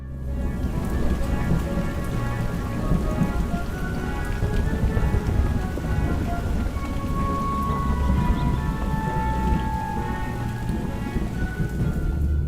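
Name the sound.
rain and thunder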